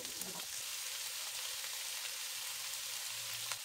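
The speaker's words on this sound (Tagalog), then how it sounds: "Gisahin natin ng bahagya bago natin lagyan ng ground black pepper" Shredded chicken breast sautéing in a pan, a steady soft sizzle with faint stirring, no talking.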